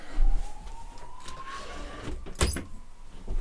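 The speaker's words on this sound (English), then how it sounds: "Now the ambulances are coming" Ambulance siren outside an open window, a faint rising wail heard at a distance over background hum with a brief knock or click midway.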